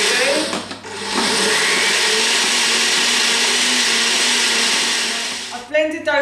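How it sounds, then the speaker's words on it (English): A kitchen blender whirs loudly and steadily for about five seconds as it blends pastry ingredients for a cheese and bacon quiche, starting with a brief stutter and ending with a short burst of voice. "I'm just going to start blending now"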